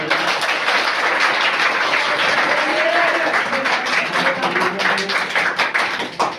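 A crowd applauds participants of a 5-kilometre marathon held on a Sunday morning: loud, dense clapping that holds steady, then thins out at the end, with a few voices mixed in.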